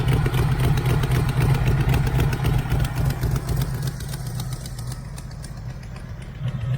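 A 1980 Camaro Z28 V8 found in a junkyard idles steadily and close by, with a slightly uneven lope hinting at a miss or a cam, holding a continuous low rumble throughout.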